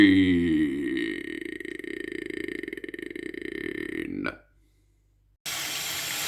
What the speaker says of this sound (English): Washing your hands before eating.